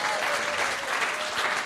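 Audience applause at a gathering in Brussels, a continuous dense wash of clapping from many people, steady and fairly loud throughout the short moment.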